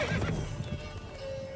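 Roach, a horse in The Witcher 3, gives a short, loud whinny with hoof clops under it, close and brief against a game soundscape with a faint sustained tone.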